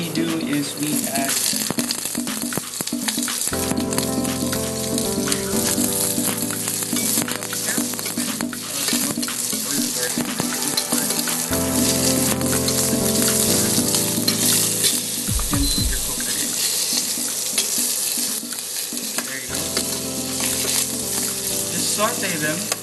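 Mushrooms sauteing with garlic in a hot pan give a steady, close sizzle and crackle throughout, with intermittent stirring scrapes and light rattles of the pan.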